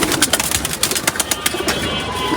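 Caged male pigeons cooing close by, a run of soft repeated throaty calls in quick pulses over a steady background hiss, with no talk.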